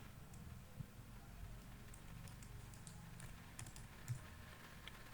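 Soft, steady tapping of a computer keyboard runs throughout, fairly quiet and close, with a few slightly sharper keystrokes and no talking.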